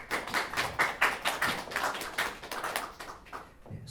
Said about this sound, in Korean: 우리 박수로 감사의 마음을 표하도록 하겠습니다